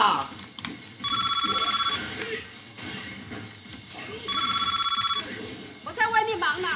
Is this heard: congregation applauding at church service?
no